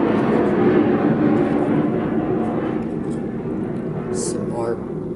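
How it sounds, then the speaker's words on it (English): A fixed-wing airplane passes overhead, a broad low engine roar that holds steady and slowly eases, heard indoors through a room with talking over it. "Here comes my plane, always."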